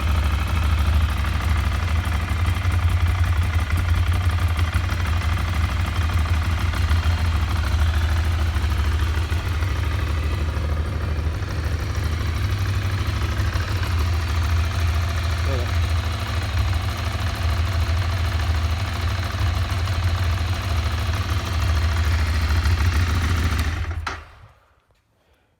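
A Ducati Monster 696 motorcycle engine idles steadily after a drive belt change, a loud continuous low rumble running for about 24 seconds with no talk over it before cutting off abruptly into silence.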